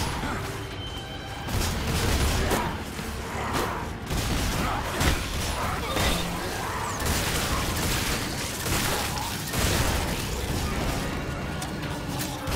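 Gunfire in The Callisto Protocol sounds as repeated heavy booming shots amid a dense, loud mix of mechanical clanks and crashes, continuous and close, with a player talking over it.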